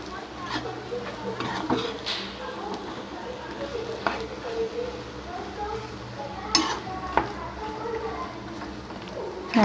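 Spoon stirring and mashing boiled potato filling with cheese for aloo paratha in a bowl, steady soft scraping and squelching close by, with light clinks now and then.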